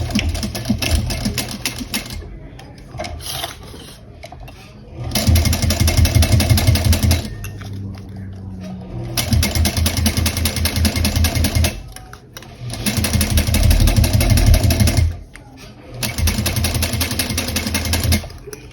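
A sewing machine stitching a small bowler bag runs loud and close in several steady bursts of rapid needle chatter, with short quiet pauses between the runs.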